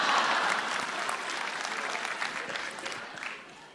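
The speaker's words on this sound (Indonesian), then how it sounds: "Tepuk tangan untuk Raditya Daki." Applause from a stand-up comedy crowd welcoming a comedian on stage, a full burst of many hands clapping that gradually thins and tapers off over a few seconds.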